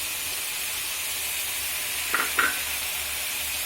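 Lentils tipped into frying bottle gourd in a pan give a steady soft sizzle and hiss, broken by two short scraping stirs near the end; no one talks.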